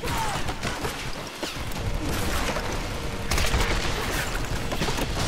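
Gunfire in the video game Tomb Raider (2013), inside a monastery level: a dense, continuous stretch of rapid shots and crashing impacts that grows louder toward the end, with no voices over it.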